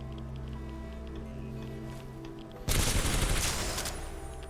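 Engine hum sits alone for a few seconds before the L-Star rapid-fire energy light machine gun in Titanfall 2 opens up in a loud, dense burst of shots lasting about two seconds.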